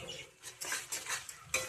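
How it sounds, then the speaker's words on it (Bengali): A spoon scrapes and clinks against a pan while stirring tomato paste gravy for a pea and new potato dish, making short irregular strokes at close range. "এইভাবে অনবরত নাড়াতে হবে।"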